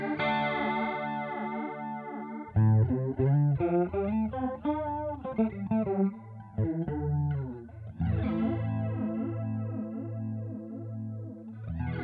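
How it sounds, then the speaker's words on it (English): An electric guitar played through a Flanger 117E modulation mode on a Boss Katana amp, chords and single notes swept by a swirling, whooshing tone, with no talking. "The next one is Flanger 117E."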